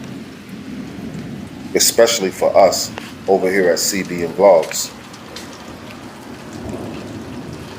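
Steady rain falls outdoors in a backyard on a rainy day, a soft continuous hiss beneath someone talking close by.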